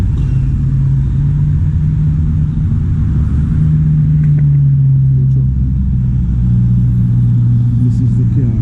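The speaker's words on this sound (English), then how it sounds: "That's a truck." A truck on a London street near Marble Arch and Oxford Street, a loud steady low engine rumble and drone holding for several seconds amid busy traffic, with talk over it.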